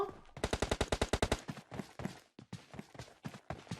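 Rapid burst of automatic gunfire in PUBG Mobile, about a dozen sharp evenly spaced shots, followed by scattered single shots and a faint voice in the background.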